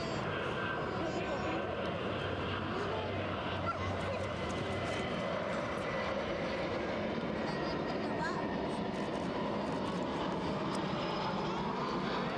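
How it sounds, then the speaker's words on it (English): An easyJet airliner inbound from Bristol at Edinburgh Airport gives a steady, continuous jet engine roar, broad and unbroken throughout, with faint honking birds in the background. "EasyJet inbound from Bristol."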